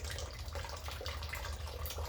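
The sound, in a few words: water leaking out of a malfunctioning water heater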